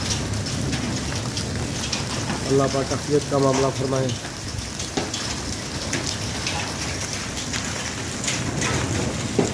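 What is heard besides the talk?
hailstorm with rain falling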